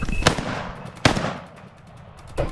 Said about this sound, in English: 1 clean shot before it cleared the broken grass ahead.